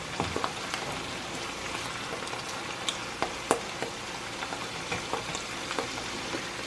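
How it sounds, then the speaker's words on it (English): Mushrooms and onions fry in a pan, giving a steady soft sizzle with scattered crackles and pops, close and fairly quiet, with no talking. "Want the mushrooms to get a little bit of color and the onions to be translucent."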